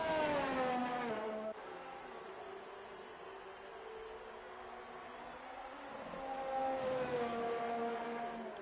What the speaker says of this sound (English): Mumford in the McLaren